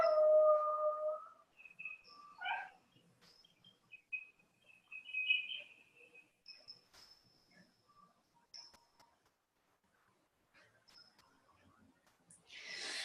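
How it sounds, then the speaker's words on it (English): Dogs howl in long, wavering cries, sometimes overlapping, with quiet gaps between bursts and a louder howl starting again at the end. "And now it's my dogs screaming."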